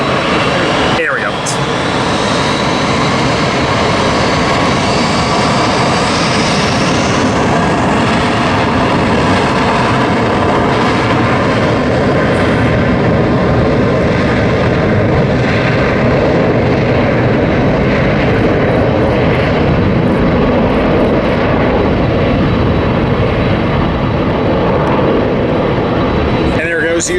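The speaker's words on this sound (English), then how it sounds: "here's Delta's pink ribbon livery to support cancer awareness, I believe, Kim." A Delta airliner in pink ribbon livery passes overhead, a steady, loud broadband engine roar holding for nearly half a minute, with faint voices mixed in.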